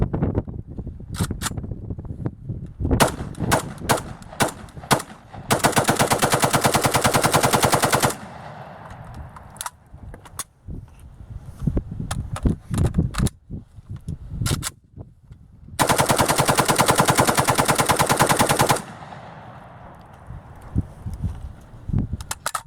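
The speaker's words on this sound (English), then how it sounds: "We're going to do a 90 round mag dump, 30 rounds at a time" A Vepr rifle fitted with a slide fire stock unloads a 90-round magazine dump in long rapid bursts, loud and close, with separate single shots and pauses between the sustained strings of fire.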